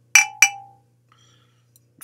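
Two quick bright clinks ring out as glass water bottles, one fogged and one dark, tap together, followed by a short fading ring and a few faint taps in a quiet room.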